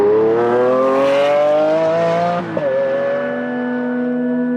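A Lamborghini Aventador LP700 supercar with a naturally aspirated V12 revs hard and close, its rising engine tone climbing before a sharp shift and then settling into a steady high drone.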